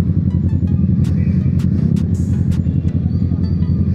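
Kawasaki Z650 motorcycle riding along, with a steady loud low engine rumble throughout and a few brief higher-pitched hiss bursts over it.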